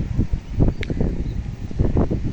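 Strong gusts buffet the microphone at a seashore where fishermen work as a cyclone approaches, producing a loud, continuous low roar that swells and dips in uneven surges.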